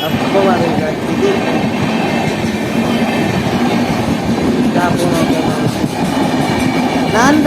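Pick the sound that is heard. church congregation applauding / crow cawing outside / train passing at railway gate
train passing at railway gate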